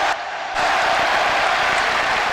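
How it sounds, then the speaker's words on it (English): An emotional, nationalistic boxing crowd at the Palais des Sports in France, cheering and applauding after a title fight. The roar is loud, dense and sustained, and it swells after a brief dip at the start. "Very emotional crowd here"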